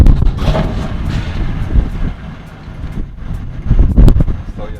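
A straight-piped 700 hp BMW M4 starts up in its loud exhaust mode with a deep, booming rumble and sharp loud bursts close by, heard against wind buffeting the microphone.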